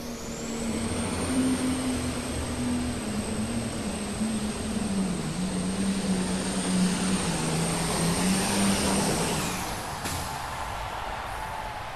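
Competition tractors at a tractor pull at the 1997 National Farm Machinery Show roar with a loud, sustained engine drone that shifts slightly in pitch, then cuts off abruptly near the end, leaving a quieter arena hum.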